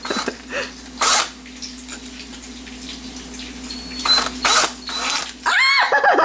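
A small drill bites into an eggshell in short, scratchy grinding bursts, several brief whirring spurts separated by pauses, close and fairly loud.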